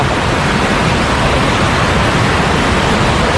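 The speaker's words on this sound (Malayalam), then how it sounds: "അടുത്ത വെള്ളച്ചാട്ടം ചെറിയ ചെറിയ വെള്ളച്ചാട്ടം" A small waterfall on a hidden stretch near Kottayam pours as a loud, close, unbroken hiss and rumble of rushing water, steady and dense from start to finish with no voices over it.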